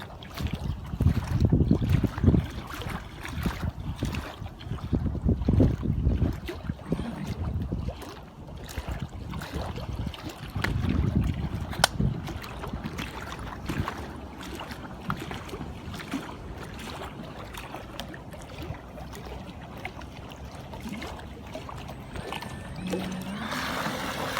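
Model carp bait boat with a Falcon 5010 motor, loaded with 2.5 kg of cargo, running over choppy water; steady motor hum with splashing and wind buffeting, louder in the first half, then a quieter, continuous drone.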